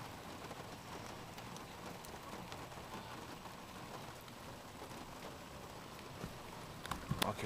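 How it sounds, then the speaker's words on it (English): Steady rain falls during a lightning storm, a soft even hiss of drops on a vehicle and ground, fairly quiet and continuous, with a few sharper taps near the end and no speech. "It's been raining like this all day."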